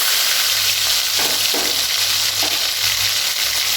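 Ginger, cumin and green chilli pastes stirred in a hot pan of oil, giving a steady close sizzle with a few scraping spoon strokes through the frying noise.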